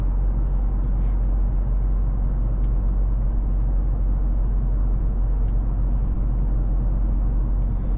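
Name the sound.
Mercedes-AMG GLC 63 S driving at night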